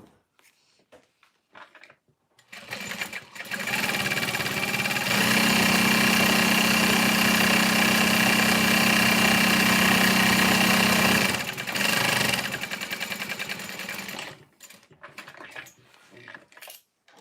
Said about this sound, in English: And then pivoting, and then we'll sew the other side down.